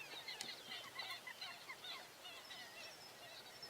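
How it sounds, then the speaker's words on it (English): Canada geese call in distant repeated honks and squawks, faint and overlapping across the open air. "By the way, I'm seeing Canada geese."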